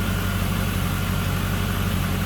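A 5.7 liter V8 in a 2002 Pontiac Firebird Trans Am Firehawk convertible idles steadily with the hood open, a loud, even low rumble throughout and no speech.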